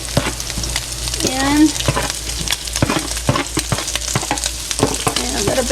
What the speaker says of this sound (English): we're going to take a little bit of our onions and just add them